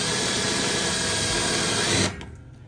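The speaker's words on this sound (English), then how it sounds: "First hole drilled." A power drill whirs steadily and loudly for about two seconds drilling into a thick workbench surface, then stops abruptly, leaving a faint fading rattle.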